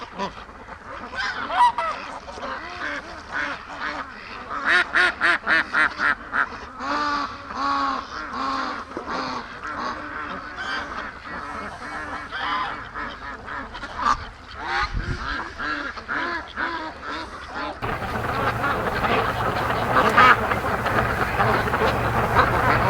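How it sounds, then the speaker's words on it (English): Free range ducks on a lake give a steady run of loud, honking quacks, many birds calling over and across one another close by, with a brief pause near the end before the calling resumes. "Everywhere these ducks go, they destroy everything drilling."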